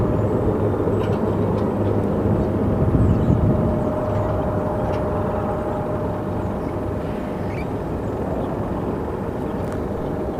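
King Air turboprop taking off at Sky Harbor Airport, a loud steady engine roar with a faint whine that swells briefly near the start, then eases slightly as it continues without talk.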